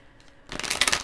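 An angel card deck shuffled by hand, a brief faint rustle followed by a louder, close riffling burst lasting about half a second, with no talking.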